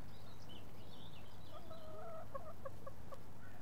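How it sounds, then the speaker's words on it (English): Hens cluck in a farm hen house at a campsite near Hulme End, Staffordshire, a burst of soft clucks followed by a short run of quick, evenly spaced calls, heard close over a low steady hum. "Say hello to Susan's chickens."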